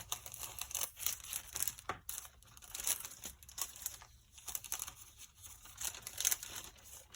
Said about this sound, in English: So I'm just going to cut a chunk off here.